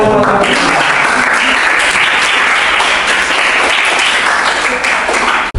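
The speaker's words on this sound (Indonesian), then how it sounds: "tepuk tangan untuk tiga" A classroom of students applauds a group after its presentation, loud dense clapping with some voices mixed in, sustained evenly before cutting off abruptly at the end.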